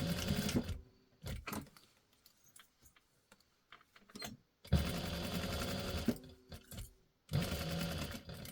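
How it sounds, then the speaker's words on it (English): A sewing machine stitches fabric for a bowl cozy in short bursts, stopping and starting for a tiny backstitch, with quiet clicks and handling noises between runs. "But like I said, I'm gonna backstitch there. Just a tiny backstitch."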